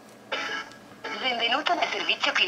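A phone call plays through the speakerphone of a Nokia Lumia 520, with a tinny recorded voice message coming from the handset speaker, fairly near and clear over a quiet background.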